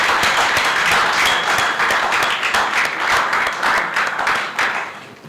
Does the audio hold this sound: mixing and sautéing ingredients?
no